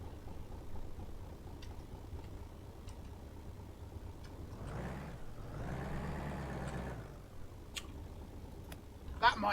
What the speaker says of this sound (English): Sounds like a truck.